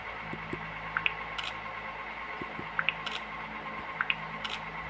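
Phone camera shutter clicks taken in quick succession, three short paired clicks spaced about a second apart over a steady room hum, close and fairly soft, with no talking.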